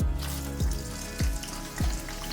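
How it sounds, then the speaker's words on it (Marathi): Steady crackling sizzle of green chilies frying in hot oil, with a few low thumps recurring roughly every half second in the background. "सर्वात आधी ना मी मिरच्या तळून घेते."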